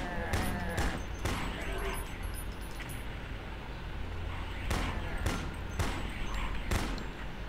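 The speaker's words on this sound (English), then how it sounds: "Now I can fire my pistol at ease." Pistol shots in a video game ring out as sharp separate cracks, several spaced irregularly over a steady rumbling game background.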